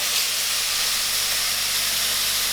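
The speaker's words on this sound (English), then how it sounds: "Okay, so I'm going to add in tin tomatoes now" Canned tomatoes hit a hot pan for a red pepper and tomato sauce, giving a steady, loud hissing sizzle that holds evenly throughout with no voices.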